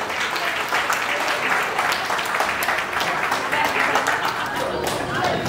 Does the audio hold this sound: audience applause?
yes